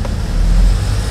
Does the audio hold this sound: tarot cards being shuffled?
no